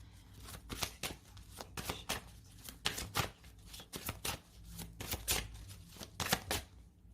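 Oracle cards shuffled and drawn during a love reading, crisp riffling flurries and sharp snaps recurring in irregular bursts, close and fairly quiet, with no talking.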